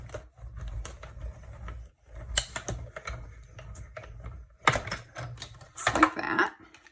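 Cardstock being run through a manual die-cutting machine, giving a close series of clicking, ratcheting crunches that come in uneven bursts, loudest and densest toward the end.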